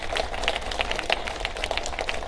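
An audience at a Bronx Irish American history event applauds, a steady, dense wash of many hands clapping at a moderate distance, with no talking.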